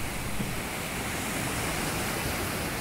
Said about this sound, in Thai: น้ำตกใหญ่น้ำใสไหลแรงเสียงดัง